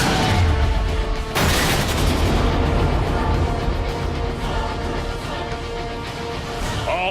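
Gunfire and explosions in Transformers: Fall of Cybertron, a dense, loud barrage of booms and blasts with one sharp burst early, continuing under constant battle noise.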